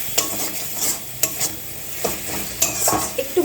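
A masala mixture frying in a pan for chicken, potato and soya masala, with a soft sizzle under several quick, close scrapes and clinks of a spoon stirring against the metal.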